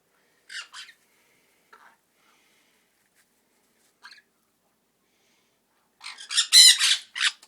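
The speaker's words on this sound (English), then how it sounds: "he'll be able to socialize with his cockatiel friends." Cockatiels give sharp, close squawks in short scattered bursts, ending in a louder, denser cluster of screeches.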